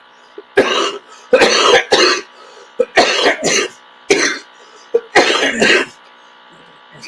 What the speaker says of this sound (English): have an 83-year-old cough that occasionally comes up when I talk quite a bit